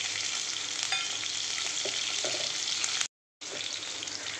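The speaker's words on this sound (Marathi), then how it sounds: "ते तेल तापलेलं आहे. आता टाकते थोडंसं जिरं, आता टाकते हिरवी मिरची" Cumin seeds and green chillies sizzle in hot oil for a potato bhaji, a dense, steady crackling hiss close by that drops out for a moment and then resumes just as strongly.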